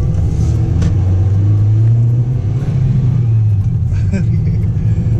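A used Toyota Vios sedan, a former limo taxi, revs with a steady low engine drone that climbs and holds before easing off, loud and close throughout.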